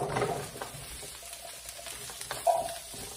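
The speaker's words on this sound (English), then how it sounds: "Same pan. Y'all know I love a good 1-pan recipe. We're going to put in the Brussels sprouts." Brussels sprouts and a bit of onion cooking in a single pan for a sweet potato hash, giving a soft, steady sizzle with light stirring scrapes and a brief louder clatter near the end.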